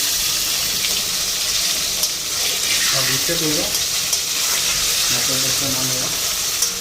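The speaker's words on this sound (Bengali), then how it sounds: "পকোড়া ভেজে দেবো" Pakoras deep-fry in oil, making a steady close sizzle and bubbling throughout, with a few brief tonal clinks and scrapes in the middle from stirring.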